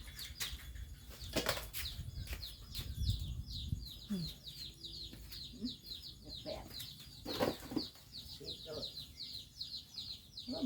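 Chickens flap their wings in loud bursts and cluck and call around a rural Thai farmyard, with occasional bumps and bird chatter mixed in.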